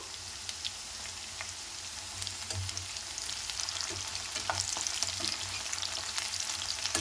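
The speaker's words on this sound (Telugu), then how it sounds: "వీటిని ఫ్రై చేసుకోవాలండి మంచిగా" Ingredients for okra pulusu sizzling in hot oil in a pan, a continuous close crackle and hiss with scattered pops that grows slightly livelier over time.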